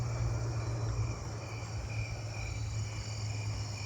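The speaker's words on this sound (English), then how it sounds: "I think I'm hearing some Carolina ground crickets in there in the tall grass." Carolina ground crickets trilling from tall grass, a steady continuous buzzing trill that runs unbroken and fairly loud with no pauses.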